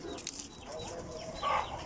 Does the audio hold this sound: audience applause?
no